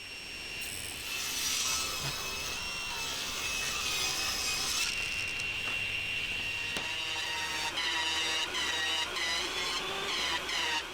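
A saw cuts through segments of scrap wood for a ship's wheel ring, each end angled at 18 degrees, giving a steady, fairly quiet rasping whir that shifts in pitch partway through, with no voices.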